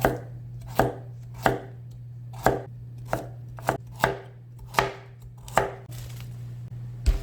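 A knife chops carrots firmly into 3–4 mm slices on a cutting board, about ten sharp, evenly spaced thuds over a steady low background hum, with no talking.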